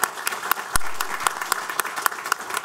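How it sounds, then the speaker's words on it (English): A small meeting audience at a county council session gives a round of applause, with scattered individual claps standing out sharply over a light, close patter of hands. "I'd like to give them a round of applause."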